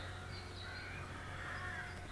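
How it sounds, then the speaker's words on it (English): Rooks squawk repeatedly beside a fishing lake ditch in England around sunset, their harsh caws rising and falling over faint, steady background noise, with no one speaking. "the rooks non-stop squawking"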